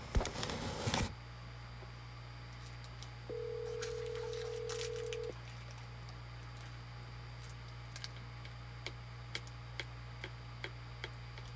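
A telephone call rings out once as a steady two-second tone over a quiet line, preceded by a brief burst of noise and followed by faint ticks and clicks.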